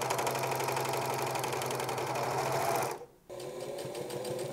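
Sewing machine stitching along the shoulders of kid's pajamas: a close, steady motor hum and rapid needle rhythm with a brief stop near the end before it runs again.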